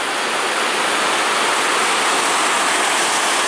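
The Mulcair River in Ireland rushing over a weir, a loud, dense, continuous roar of tumbling water with no breaks or voices.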